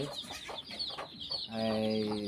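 Chickens cluck in short bursts close by, followed by a sustained louder call near the end.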